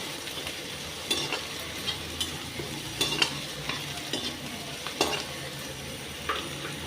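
Paneer masala with red chilli and ginger being stirred in a pan, a soft continuous sizzle broken by repeated spoon scrapes and knocks against the metal at an irregular pace.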